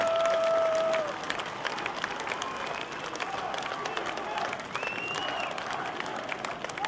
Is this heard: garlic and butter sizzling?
no